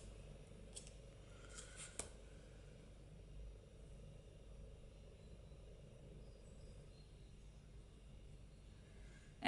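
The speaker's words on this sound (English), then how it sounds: "Now we can cut this yarn as well." Scissors cutting crochet yarn after finishing a small flower: a couple of quiet, brief snips early on, then near silence with faint low background hum.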